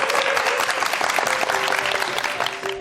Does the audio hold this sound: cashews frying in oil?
no